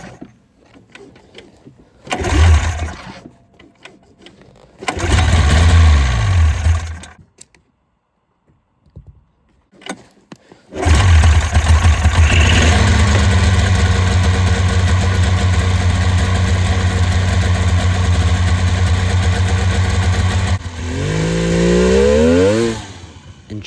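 A 1993 Polaris Indy XLT snowmobile engine fires in short bursts, then runs loud and close at a steady idle before revving up near the end; no one speaks.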